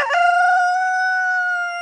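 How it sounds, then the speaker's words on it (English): A French Black Copper Marans rooster lets out one close, loud crow that opens with a rough attack and then holds a long, steady, clear note until it tapers off. "Like this rooster here, he's our French Black Copper Moran."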